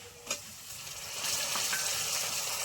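Shrimp go into a pan of frying potatoes, sending up a steady hiss of sizzling oil that grows louder and fuller after a brief clatter.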